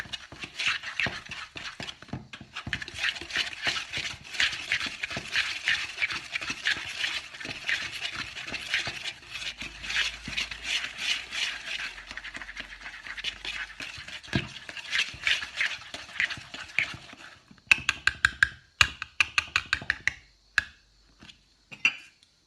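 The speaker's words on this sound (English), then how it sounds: "So we're going to just mix it all together." Sugar and oil being mixed together in a bowl for a stovetop marble coffee cake, a quick steady whisking rattle going for a long stretch, close, then slowing into separate taps and clicks near the end.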